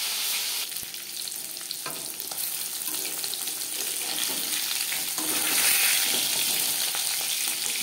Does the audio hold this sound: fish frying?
yes